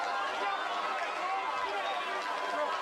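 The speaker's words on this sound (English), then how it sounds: "Again, the Don Bosco crowd here just all up in arms, making tons of noise, and deservedly so." Home crowd noise at a Don Bosco Prep high school football game, a continuous roar of cheering and shouting voices filling the stadium at a steady level, heard under a commentator's voice.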